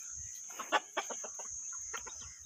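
Chickens cluck and call on a home farm with a rooster kept nearby, several short clucks over a steady high insect-like hum.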